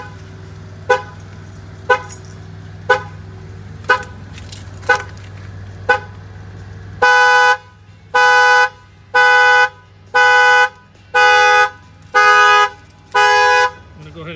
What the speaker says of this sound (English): The alarm will fire off.